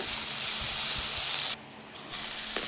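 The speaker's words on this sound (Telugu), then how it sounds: "అలా వేగుతుండగా కొన్ని తెల్లగడ్డలు వేయాలి" Onion and garlic fry in hot oil in a pan, giving a steady, close sizzle and hiss. Partway through, the sound briefly drops to a muffled hush, then the sizzle returns.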